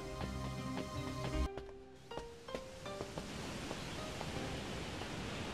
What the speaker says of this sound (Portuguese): o local de onde está vindo o som da queda d'água